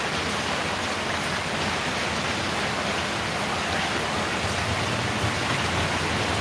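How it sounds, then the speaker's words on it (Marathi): Steady, dense rain pours down with an even hiss and patter, continuous and fairly close, with no voices. "इकडे पाऊस सुरू झालेला आहे"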